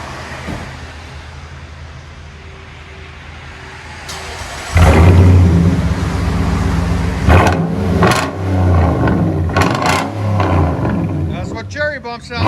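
A Nissan Titan 5.6L V8 with stainless steel exhaust tips starts after a quiet stretch, then idles loud and close with a deep rumble and several sharp revs, and a voice speaks near the end.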